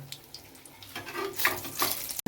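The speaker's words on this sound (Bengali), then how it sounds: "এবার উল্টে পরের পিঠটা ভেজে নেব" Brinjal fritters (beguni) frying in hot oil in a pan give off a soft, continuous crackle and sizzle, close and fairly quiet, rising slightly near the end.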